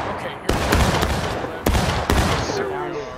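A musket volley in the War of Rights Civil War game: a few sharp reports crack out close together over a loud, rumbling battle din, with faint voices in the background.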